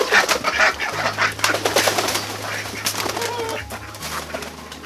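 Ducks and small ducklings calling outdoors around a pen, a busy cluster of quacks and peeps close by at moderate volume, with brief human sounds in the background.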